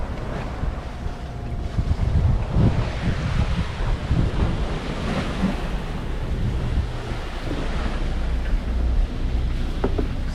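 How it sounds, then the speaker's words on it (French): Strong wind rushes over a sailboat under full mainsail as it sails between islands in a gust, a steady loud roar with water wash and buffeting against the microphone, no voices. "on est entre les îles et là il y a une accélération du vent qui est super"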